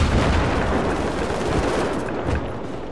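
Dense, loud gunfire from a Battlefield multiplayer match on the Seine Crossing map, with sustained automatic bursts and booming shots blending into a continuous roar that runs for the whole stretch without voices.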